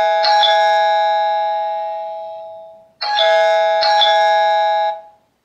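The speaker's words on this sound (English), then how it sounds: "you can use your button and your smart hub as a doorbell" Doorbell chime triggered by a TP-Link Tapo S200B smart button through its smart hub: a loud, clear two-tone ding-dong that rings out and fades, then plays again, alone and close.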